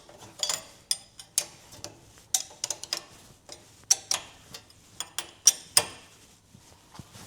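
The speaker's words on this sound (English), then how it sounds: "we can take a wrench" A hand wrench snugging wheel bearing bolts on a fifth-generation Toyota 4Runner, with a quick irregular series of sharp metallic clicks and ratcheting ticks, close and fairly quiet, with no talking.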